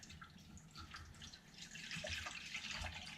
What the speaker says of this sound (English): Now we're going to put in 543 grams of water.